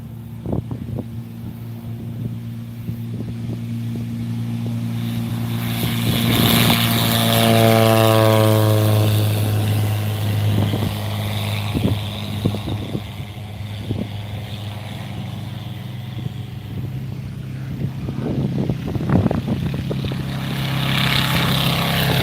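Replica WWI Nieuport 17 with a Volkswagen car engine, in German captured markings, takes off: a steady loud engine drone swells and shifts in pitch as it passes, then carries on as a rumble with some outdoor noise.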